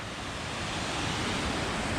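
Glacier meltwater stream flowing near a mountain trek trail in Himachal, a dense, steady roaring rush of water filling the sound evenly with no pauses or talk.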